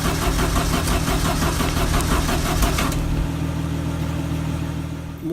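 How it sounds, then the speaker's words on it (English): A 1971 Volkswagen Karmann Ghia, left sitting in a barn for 30 years, cranks loudly and rhythmically on its new starter for about three seconds, then the chatter stops and a lower steady hum lingers. "And as you can see, it's cranking."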